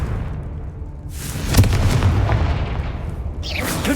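A Confringo spell bursts in the Hogwarts Legacy video game with a sharp, loud boom that follows a quieter stretch, trailing into rumbling debris and another burst near the end.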